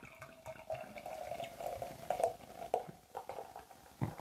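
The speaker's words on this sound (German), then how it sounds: "Mach mal richtig voll da dein Glas." Berliner Pilsener beer is poured into a glass, heard as a quiet, close trickle of liquid with small gurgles and splashes building unevenly as the glass fills.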